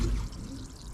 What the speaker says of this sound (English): we're just waiting for the rest of the fresh water to run out